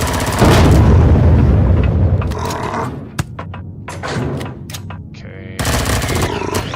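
Heavy shotgun blasts from the space survival game Empyrion: Galactic Survival, booming loud and close, with a sustained roar at the start, scattered sharp cracks in the middle and another loud burst near the end.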